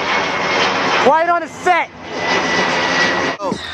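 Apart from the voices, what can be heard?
airplanes flying overhead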